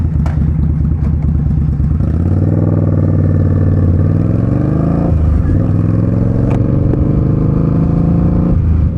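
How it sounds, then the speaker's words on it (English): A loud cruiser motorcycle engine rumbles throughout, its deep throaty note rising and falling as the bike rides and shifts, close and dominant. "This is a real bike, a real motorcycle, a real engine, right?"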